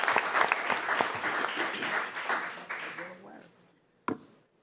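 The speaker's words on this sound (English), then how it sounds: "Please give a big round of applause for Alani Wright." A crowd at a school board of education meeting applauds steadily for about three seconds before the clapping tapers off to near silence, followed by one brief late clap.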